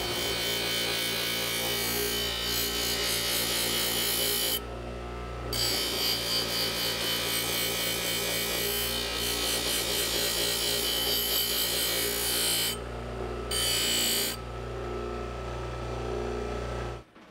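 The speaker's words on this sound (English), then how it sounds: "Now it's time to remove the burr, because right now it's got this big burr on it." Filing or rasping away the burr on the freshly sharpened edge of a custom-built axe: steady, close abrasive scraping strokes repeating over several seconds, broken by two brief pauses, with no talking.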